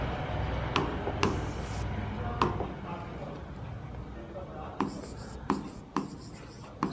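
Pen strokes and taps as maths equations are written out by hand during a lesson, a few sharp scratchy ticks scattered over a steady background with speech present, close-miked.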